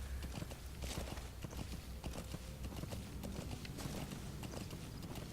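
A horse walks in the video game Metal Gear Solid V: The Phantom Pain, with close, steady, rhythmic hoof clip-clops over continuous in-game ambience.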